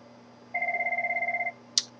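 An incoming call rings a phone in a Cisco Jabber setup with an iPhone: one warbling ring burst lasting about a second, clear and fairly close, followed by a short sharp click. No one speaks.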